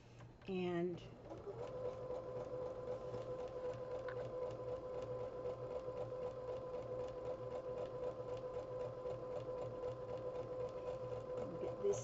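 A domestic sewing machine stitches fabric for a homemade sleeping bag, running steadily and close by with a continuous whirring hum after a brief opening burst, no talk over it.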